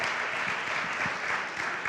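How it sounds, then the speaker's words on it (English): An audience gives a standing round of applause for a reverend at a morning gathering; dense, steady clapping close and even throughout. "Let's give him another round of applause."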